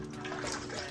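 A Fluval canister filter tray is dunked into water for rinsing, a brief close sloshing and gurgling of moving water lasting about a second.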